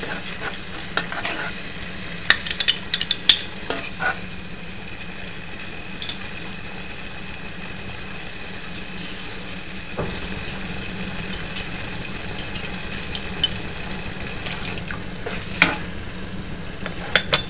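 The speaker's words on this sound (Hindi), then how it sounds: "इसमें हिला लें ताकि जो योगर्ट है वो फटे नहीं" Yogurt being stirred into a kebab karahi in a pan: a steady close scraping and stirring over a continuous low sizzle, with occasional sharp clinks of the utensil against the pan and no talking.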